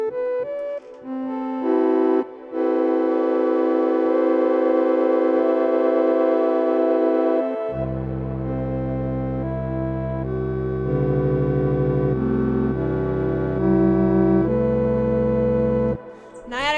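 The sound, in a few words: naiadic microtonal tuned chord, synthesized tones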